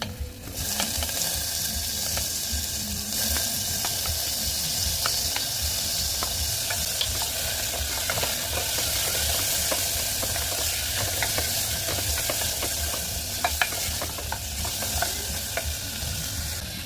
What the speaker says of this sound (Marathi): बघा आता मस्त टमॅटो परतलेला आहे